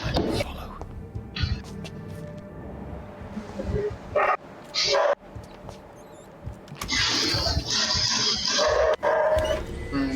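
A dog gives a few short barks in brief bursts amid ongoing conversation and background noise.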